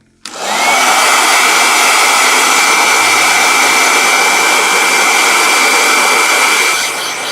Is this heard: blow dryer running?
yes